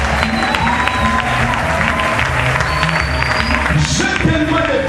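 A church congregation at a French-language worship service applauding and cheering, loud dense clapping mixed with crowd voices, sustained throughout at close range with some scattered shouts.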